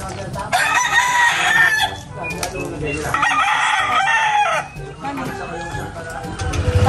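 Chickens of a farmyard flock cluck while a rooster crows in two long, loud calls, with further clucking and squawks in between and after.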